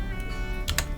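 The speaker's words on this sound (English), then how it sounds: "you can hit Enter on your keyboard twice" Two quick, close taps of the Enter key on a computer keyboard, a pair of light clicks about half a second apart.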